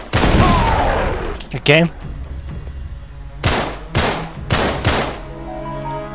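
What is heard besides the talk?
gunshots from the video game Uncharted 3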